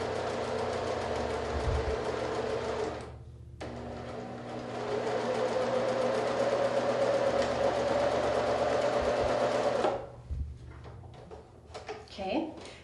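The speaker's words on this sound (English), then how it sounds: "So then we're going to sew that 1/4 inch seam." A sewing machine stitches a quarter-inch fabric seam in a steady, fast whirring run, pausing briefly before resuming. It stops near the end, followed by faint handling sounds, with soft talk in the background.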